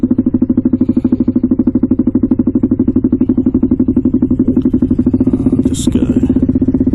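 A 2023 Honda Grom fitted with a DH Motoring cam, Chimera intake and ECU tune is being ridden, its engine a steady, rapid, loud pulsing throb that holds throughout, with a brief burst of noise near the end.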